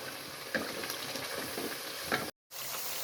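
Masala for aloo baingan frying in a pan, a steady close sizzle with a few faint stirring scrapes and a brief gap near the end.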